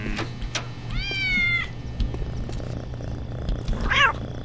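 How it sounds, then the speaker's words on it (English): A cat meows twice in the video game Postal 2: first a long wavering meow, then a shorter, sharper one near the end, both fairly close over a steady low in-game background hum. "I totally just picked up a cat."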